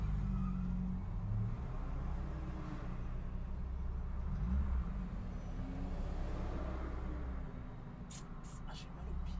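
A Jeep with no sound insulation drives along, and its loud engine and road drone fill the spartan cabin steadily throughout, with a few brief higher rattles near the end.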